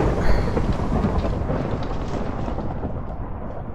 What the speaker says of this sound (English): Yep, and there's our storm.